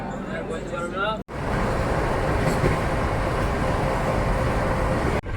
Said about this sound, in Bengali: কানপুর থেকে ছেড়ে দিল আমাদের ট্রেন